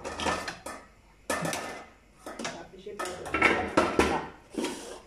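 Metal pot lid clattering and scraping onto a cooking pot of reducing lasagne sauce, several clanks and rattles in bursts at close range, with a person talking intermittently.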